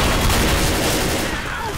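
Gunfire in the Left 4 Dead video game, a short dense volley of shots blurring into a loud continuous clatter that trails off slightly at the end.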